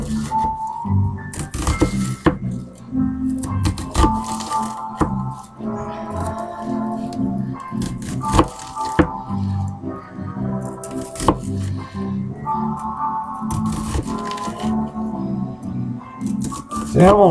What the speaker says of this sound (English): if you've never seen an onion cut up